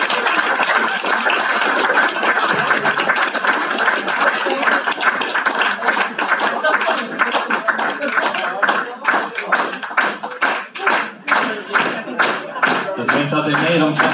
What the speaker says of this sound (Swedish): En jättestor applåd igen till Ronny Eriksson och Leo Holmberg.